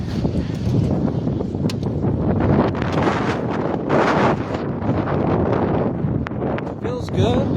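Wind blowing outdoors on an autumn day in Indianapolis, buffeting the microphone with loud, continuous low rumbling and gusts throughout.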